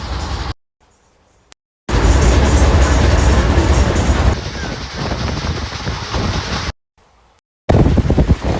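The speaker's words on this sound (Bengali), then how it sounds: "1টা বেজে 42 মিনিট আমাদের ট্রেন ছেড়ে দিল।" The Sahid Express 12347 runs along the track, a loud rumbling roar with wind buffeting, broken by two short silent gaps.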